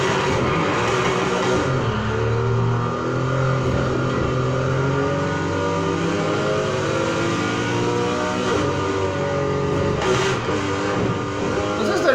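Engine of a 1971 Nissan Skyline 2000 GT-R drifting in the racing game Need for Speed Heat, a loud, sustained revving roar with shifting pitch and tire noise, steady throughout with no talk.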